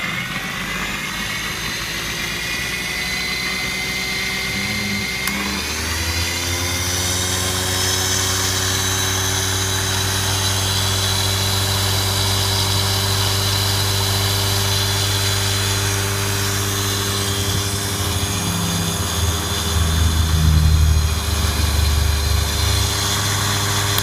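A Sherline mini lathe with a solid brass bed runs at its faster belt speed, humming steadily with a constant motor drone and layered whine that holds at close range for the whole stretch.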